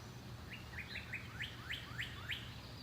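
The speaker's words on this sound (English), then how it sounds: "You hear the birds?" A bird chirps outdoors in a quick series of bright rising tweets, fairly faint over a low steady background hum.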